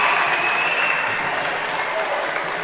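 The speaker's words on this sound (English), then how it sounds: "And now the crowd is getting into this game." Crowd applause fills the gym at a high school girls' basketball semifinal, sustained and moderately loud, with voices talking over it.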